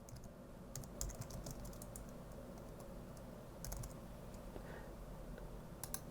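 Soft, steady typing on a computer keyboard, a run of light quick keystrokes with a few slightly sharper taps, faint and close over a low room hum.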